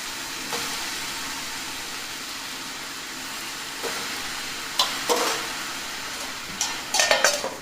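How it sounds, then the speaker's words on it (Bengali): Bottle gourd with salt and turmeric cooking in a wok, a soft continuous sizzle running throughout, broken by a few scraping stirs that grow busier and louder toward the end. "এটাকে খুব ভালো করে এবার নাড়াচাড়া করে নিতে হবে"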